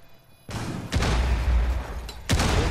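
Grenade explosions in Rainbow Six Siege: a burst of booming blasts, first one loud deep thump, then a sustained rumbling roar and a second sharp blast near the end, close and loud.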